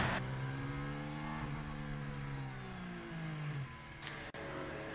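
The McLaren Formula 1 car's engine whirs and drones in the pit box at Abu Dhabi, a steady tone shifting in pitch that ends in a brief sharp click with no talking.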